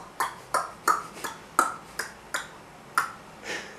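Fingers snap nine times in a loose, fairly quick rhythm, each one a sharp, dry crack, close and alone in a quiet room.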